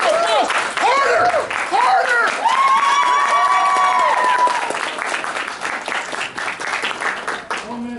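An audience at a charity auction claps and cheers loudly, with whoops and shouting over dense applause that slowly thins toward the end, and a host's voice rises above the crowd.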